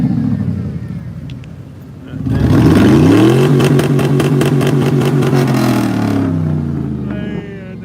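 A loud vehicle engine revs hard at a night gathering in Alabama, climbing to a sustained roaring pitch that holds for several seconds before easing off, close and dominant with no talk over it.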